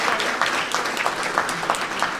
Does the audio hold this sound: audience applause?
yes